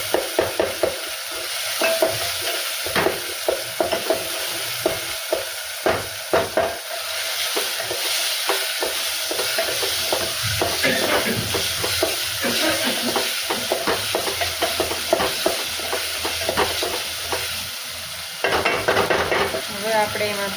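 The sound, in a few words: stirring boiled potatoes and peas in a pan for Maggi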